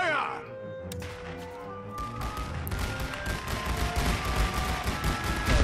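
Rapid, dense gunfire and dull thuds build up in the World War I strategy game The Great War: Western Front, growing heavier and more continuous toward the end as a barrage rolls on.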